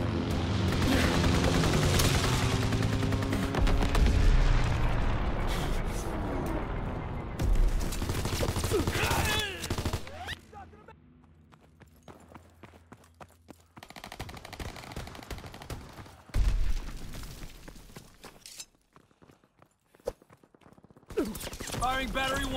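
An artillery battery fires in a video game amid a chaotic battlefield: rapid bursts of gunfire and heavy booming shots, loud at first, then sparser and quieter, with voices speaking throughout.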